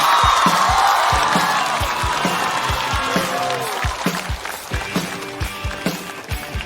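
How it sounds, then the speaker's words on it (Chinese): A comedy show audience bursts into applause and cheers to welcome a stand-up comic onto the stage, loud and dense at first, then thinning into scattered claps as footsteps thud across the stage. "掌声有请多多。"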